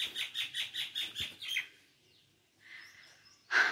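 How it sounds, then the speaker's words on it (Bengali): Birds chirp in the many trees around a house, giving a quick, even run of high tweets that fades to softer, scattered calls. The sound is faint and distant. "তাই জন্য পাখিদের কিচিরমিচির শোনা যায় সবসময়"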